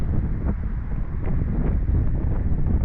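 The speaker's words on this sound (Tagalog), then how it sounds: "Isang mahangin na umaga po." Wind buffets the microphone on a windy morning outdoors by the water, a steady loud rumbling roar that lasts throughout with no pauses.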